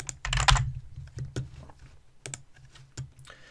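Keys clack on a computer keyboard while text is entered into a form in Microsoft Word, with short bursts of typing separated by pauses, close and moderately loud.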